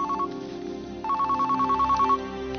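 A telephone rings in repeated bright electronic trills, one short burst and then a longer run of pulses, over a steady low background hum in an indoor scene.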